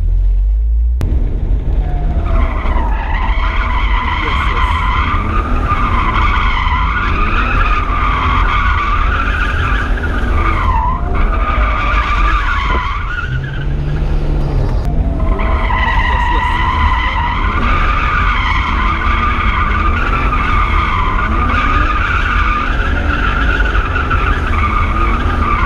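A drift taxi on a hot lap screeches with long, loud, sustained tire squeal that bends in pitch through slides, briefly breaks off, then resumes, over a constant engine rumble heard close from inside the car.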